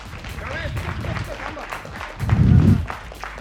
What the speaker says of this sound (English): A round of applause for Bubble.